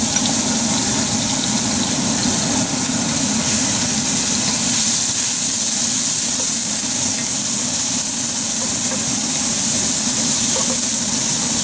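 Grated onions fry in hot olive oil over high heat, giving a steady, close, continuous sizzle and hiss with no talking.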